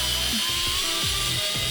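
A cheap Goldsea electric screwdriver drives a bit through material to bore a hole, giving a steady whirring motor drone broken by repeated grinding bursts of strain.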